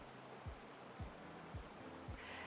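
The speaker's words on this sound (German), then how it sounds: "im Hintergrund hört man vielleicht den Bach rauschen" A creek rushes faintly in the background on a Canadian property as a soft, steady wash, with a few dull low thumps recurring about every half second.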